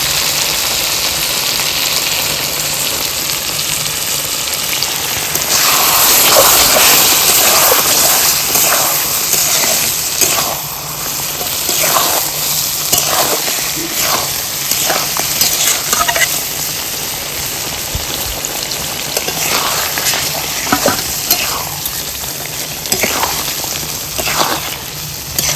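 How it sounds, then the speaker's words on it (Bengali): Water is poured into a pan of meat curry that is sizzling in its own oil, setting off a loud surge of hissing and bubbling followed by steady frying and occasional stirring. "এবার একটু হালকা করে জল দেবো।"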